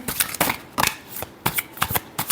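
Tarot cards shuffled by hand, a quick series of crisp riffling bursts, close and fairly loud, separated by brief pauses.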